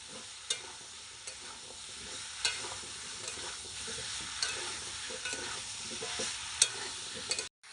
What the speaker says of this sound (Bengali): আলুটা দিয়ে একটু নাড়াচাড়া করে নেবেন